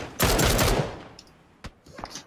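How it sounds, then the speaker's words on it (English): Gunfire in the PUBG battle royale game: a loud, dense burst of rapid automatic shots for about half a second, then fading echoes and a few scattered single shots farther off. "The gunfire was right on that blue marker."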